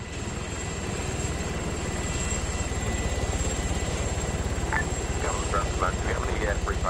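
A helicopter in the military game Arma 3, its rotor chopping in a fast, even pulse that stays loud and close throughout, while people talk over it in the second half.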